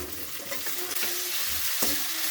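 Onion and tomato sauté together in a pan for a drumstick-leaf paratha filling: a close, continuous sizzle with a spatula scrape or two.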